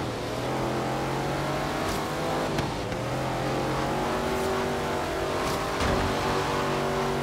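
Race cars in a three-lap Forza Horizon 3 race with the Hot Wheels expansion, engines droning and revving steadily with gear shifts and brief swells as cars pass, a constant moderately loud motor roar throughout.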